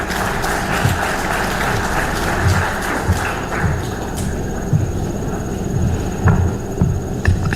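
Dense, continuous applause from a large audience fills a conference hall at the Kenya International Investment Conference, steady and loud throughout with a low hum beneath and occasional thumps.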